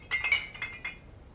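Glass beer bottles of a special beer clink together in a handful of short, bright knocks, close and fairly quiet, with no talking over them.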